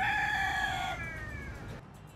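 A free-roaming rooster from a town's self-sustaining flock crows close by, one loud drawn-out call that fades into a quieter trailing note.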